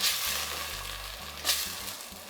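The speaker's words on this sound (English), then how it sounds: "Give that a stir." Tomato curry sizzles in a pan as it is stirred, with a steady frying hiss, a low hum underneath and a brief scraping swell near the end.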